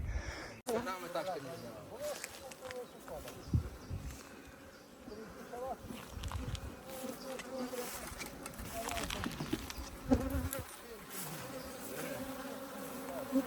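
Honey bees from about fifty colonies at a forest apiary hum in a dense, continuous buzz, with individual insects droning past at varying distances.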